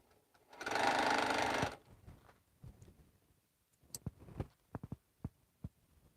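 Sewing machine stitching quilt pieces into rows, one loud steady whirring run lasting about a second, followed by scattered soft clicks and taps from handling fabric, close and without speech.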